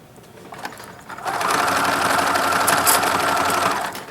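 A sewing machine stitches a zigzag seam through polar fleece and t-shirt knit, starting after a brief quiet moment and then running in a loud, fast, steady mechanical whir of needle strokes until it stops at the end.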